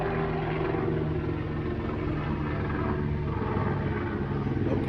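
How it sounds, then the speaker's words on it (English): A helicopter passes overhead outdoors where bait fish are being caught with a cast net, its steady, loud rotor drone and low engine hum filling the whole stretch without a break. "there's a helicopter coming over"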